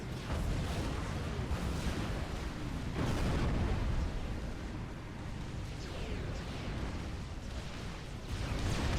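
T1 mobile artillery fires in a 6v6 Supreme Commander: Forged Alliance match on Canis River. A dense, continuous barrage of booming blasts rumbles loudly for the whole stretch with no pauses.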